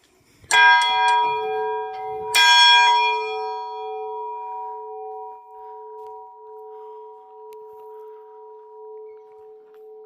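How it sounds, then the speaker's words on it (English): The Ireland's Eye church bell on an island in Trinity Bight, Newfoundland, struck twice loudly and close, each clang ringing out into a long, slowly fading hum. "The Ireland's Eye Bell rang loud and clear"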